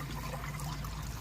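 Liquid is poured into a spray tank in a poultry shed, making a steady, even rush of splashing water throughout the short stretch, with no voices.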